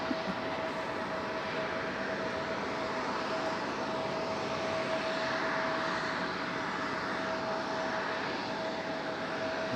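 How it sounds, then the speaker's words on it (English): American Airlines Airbus A321 jet arriving at Raleigh-Durham, probably from Dallas, a low, steady engine rumble with a constant tonal whine, moderately distant and continuous for the full span. "American Airlines A321, more than likely coming from Dallas to Charlotte"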